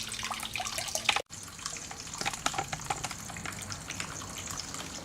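Hot car coolant drains from a radiator in a steady, close trickle, a continuous watery splash with a brief interruption near the start.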